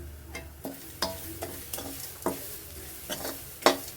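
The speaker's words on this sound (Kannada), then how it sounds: "ಹುರ್ಕೋಬೇಕಿದ್ದೀನಿ ಚೆನ್ನಾಗಿ, ಒಂದು 3 ನಿಮಿಷ ಆಗುವಷ್ಟು." Ivy gourd being stir-fried in a pan, with a spoon scraping and clacking against the pan in regular knocks about every half second over a faint sizzle, with no talking.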